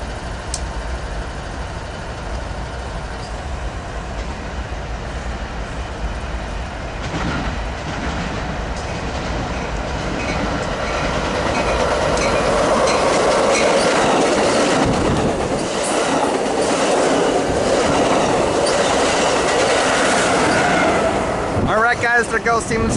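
Amtrak train 567 bound for Los Angeles, led by a Siemens Charger SC44 locomotive, passes at Commerce, a loud, steady rumble of wheels and rail clatter that swells midway, with a voice talking over it.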